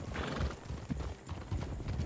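Horse hooves clip-clop in the Red Dead Redemption-based roleplay game, a steady, busy patter of hoofbeats under a broad wash of ambient game noise, moderately quiet and continuous.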